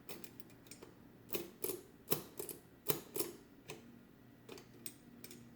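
Comptometer keys clack and tick during a cosmetic restoration, a quiet irregular series of sharp mechanical taps and rattles, close by with no talking.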